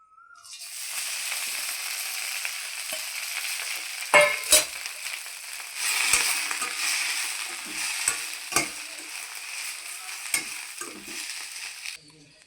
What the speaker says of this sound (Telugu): ఆయిల్ వేసుకుని గోంగూర వేసేసుకోవాలి.